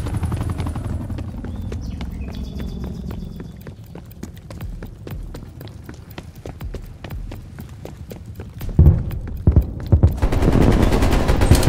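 Gunfire and a helicopter in the Call of Duty: Black Ops Cold War video game: dense rapid shot bursts crackle throughout under a steady rotor drone, turning louder with heavy impacts near the end.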